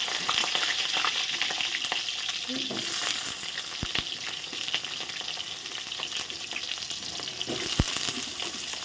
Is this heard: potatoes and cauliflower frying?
yes